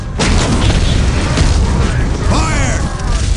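A Titan cannon fires in the Warhammer 40,000 strategy game Dawn of War: Dark Crusade, a loud, heavy booming blast that rolls on continuously with mechanical rumble, while a voice speaks over it.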